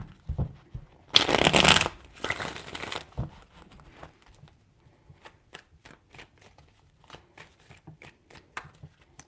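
Tarot cards shuffled in two loud bursts of riffling near the start, followed by scattered soft taps and flicks of the deck, close and alone without talk.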